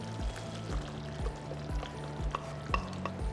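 Water poured into a pot of Sundakkai Vathal Kuzhambu with tamarind pulp and ground paste, a soft splashing pour with rhythmic knocks of a ladle against the pot, fairly faint and close.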